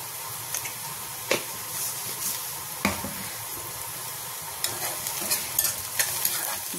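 Onions fry in a pan with salt while being stirred, as the start of a quick fenugreek leaf dish. A steady sizzle runs throughout, broken by a few distinct spatula scrapes and knocks, close and without talk.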